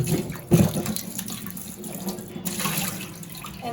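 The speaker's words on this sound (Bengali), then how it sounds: "এই যে দেখেন আমার শসা টমেটো কাঁচামরিচ ধুয়ে নিতেছি" Cucumber, tomato and green chili rinsed under a running kitchen tap, a steady splash of water over the vegetables in a sink with a few louder bursts as the produce is handled.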